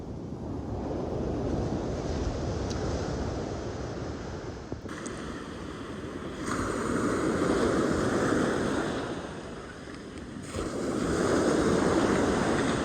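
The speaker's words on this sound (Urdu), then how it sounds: "سمندر کا شور شرابہ." Sea waves roll in and wash onto the beach at Castelldefels near Barcelona, Spain, in broad surges, a loud rushing roar with some wind buffeting the microphone.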